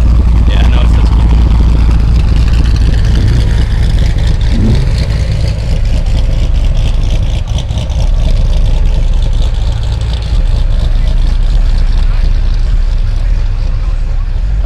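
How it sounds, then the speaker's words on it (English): A Chevrolet Corvette engine runs loud and steady at a Nashville Cars and Coffee meet, with a deep low rumble that holds for the whole stretch while people talk over it. "I hear something going on with this Corvette."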